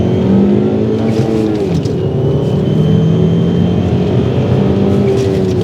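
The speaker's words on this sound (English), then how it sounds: "Let's hear some 5-cylinder noises." A Ford Mondeo XR5's five-cylinder engine hums loudly and steadily, its pitch rising and easing through several revs, heard close up with no talking.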